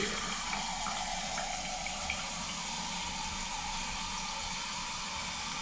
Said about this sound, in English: Get my filtered water.